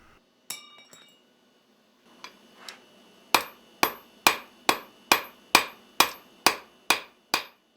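Hot steel at a forge while shaping a heart hook, with a few scattered metallic clinks followed by a steady run of about ten sharp, ringing strikes in even rhythm, close and loud, with no talking.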